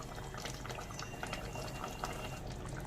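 Pomfret fish curry with brinjal bori bubbling in a pot, a steady soft simmer of liquid with small pops and gurgles throughout, fairly quiet and with no talking.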